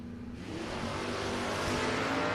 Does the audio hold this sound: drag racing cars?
yes